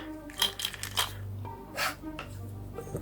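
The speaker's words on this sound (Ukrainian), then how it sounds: "Зараз ми її розпакуємо, бо вона в зіп-пакеті." A 5-hryvnia commemorative coin from 2002 is unpacked from a zip bag: plastic crinkles and rustles, with a few light metallic clicks and taps spread over the moment, all close up and fairly quiet.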